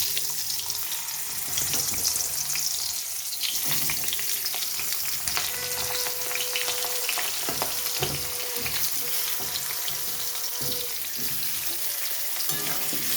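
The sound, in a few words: potatoes frying in oil until reddish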